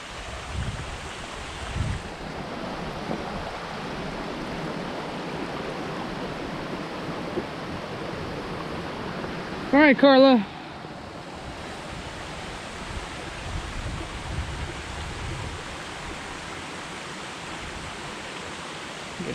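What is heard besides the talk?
flowing stream water on the Appalachian Trail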